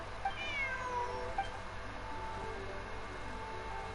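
A cat in the video game Genshin Impact gives a few short, high meows near the start, fairly faint over a steady soft background hum.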